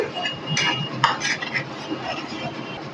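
Ground cumin being stirred into a curry in a pan, heard as close metal spoon scrapes and light clinks against the pan over a soft background hiss.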